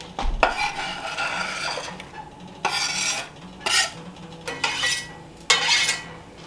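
Ground beef and onion being stirred in a pan, with repeated scraping strokes of a utensil against the metal and light clinks in uneven bursts, no talking.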